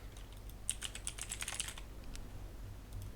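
Quick bursts of keystrokes on a computer keyboard, a short run of light clicks close up, then a few scattered taps against a faint steady hum.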